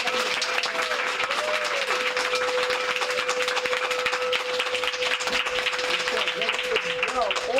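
A live audience at a women's wellness and healing talk applauds steadily for several seconds, a dense continuous wash of clapping with a few voices and cheers mixed in.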